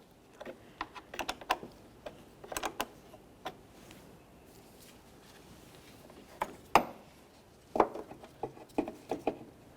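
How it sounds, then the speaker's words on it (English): A 10mm wrench loosens the negative battery terminal nut on a Nissan Titan, making clusters of quiet, close metallic ticks and ratcheting clicks in short bursts separated by near silence. "We'll use a 10mm wrench to loosen this nut just enough that we can take the cable off of the battery itself"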